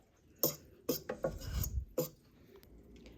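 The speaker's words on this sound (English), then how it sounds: "I like to just kind of scrape down all the flour on the sides every once in a while just to get it all mixed in together" A spatula scrapes flour down the sides of a mixing bowl while making cinnamon raisin English muffin dough: several short, close, rasping strokes in an uneven rhythm, with no talking.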